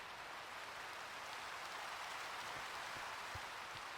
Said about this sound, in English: Ah, it's raining out.